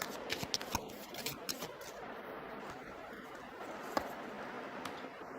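Tarot cards shuffled and drawn from a deck, a run of quiet close riffling flicks and soft slaps, sparse and faint with a sharper snap partway through.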